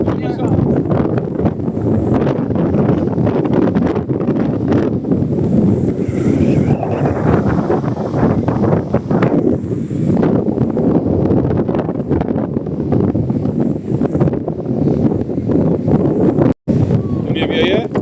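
Strong wind gusting by the sea, buffeting the microphone in a loud, continuous rumble that barely lets up for the whole stretch, with voices faintly audible under the roar.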